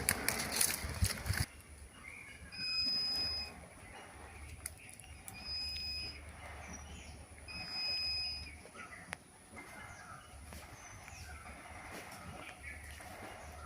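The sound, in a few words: GR 1000 V2 gem detector machine scanning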